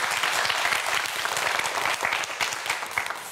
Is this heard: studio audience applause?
yes